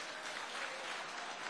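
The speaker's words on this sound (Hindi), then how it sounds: "वो अगर ताली बजा रहे हैं तो ढंग से बजाइए" Audience clapping at a political event, a quiet, continuous wash of many hands heard at a distance for a moment, with no speech on top.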